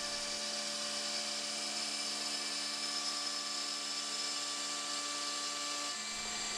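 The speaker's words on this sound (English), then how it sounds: "Here I'm using the CNC to mill the bottom portion of the fixture." A CNC router mills the bottom portion of a vacuum fixture at a conservative feed, giving a steady, loud high-pitched whine with several sustained tones that continues throughout and drops slightly near the end.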